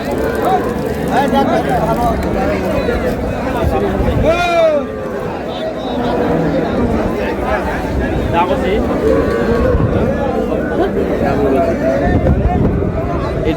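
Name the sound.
cows and calves mooing at a cattle market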